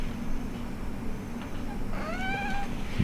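Gracie the cat lets out a single rising-then-falling meow near the end of a quiet room tone, with a faint bump of handling noise just after.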